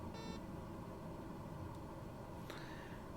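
A Beechcraft King Air 350 cockpit in Microsoft Flight Simulator 2020 gives a short electronic beep early on, heard faintly over a steady low engine drone.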